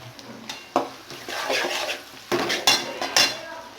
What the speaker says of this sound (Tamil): இப்போ பச்சை மிளகா போட்டுடலாம்